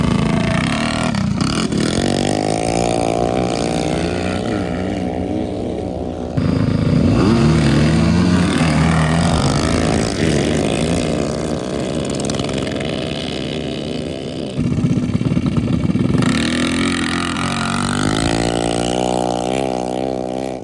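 A methanol-burning Tillotson 263cc drag mini bike engine screams through repeated full-throttle runs on a drag strip, loud and raspy with rising revs and brief shifts in pitch, continuous throughout.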